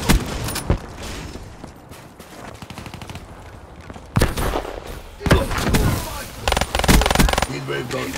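Bursts of gunfire from a firefight in the video game Black Ops 3, loud and repeated in clusters with sharp cracks and rattling volleys, some short pauses between, a voice briefly audible.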